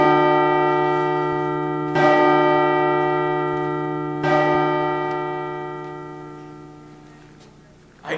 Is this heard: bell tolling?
yes